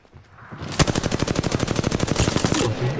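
Automatic gunfire in the video game Apex Legends rattles out as one rapid, evenly spaced burst of loud shots lasting about two seconds, with a sharp opening crack and a brief tail afterward.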